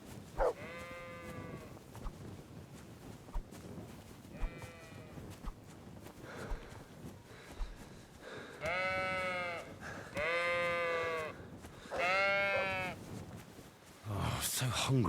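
Sheep in the video game Kingdom Come: Deliverance II bleat several times, first fainter and scattered, then a run of loud, close, drawn-out bleats over low background rumble.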